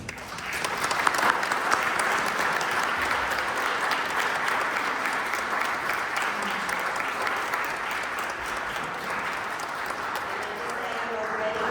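Sustained crowd applause for graduates at a law school graduation ceremony, a broad even wash of many hands clapping from start to finish, steady in loudness with no talk breaking through.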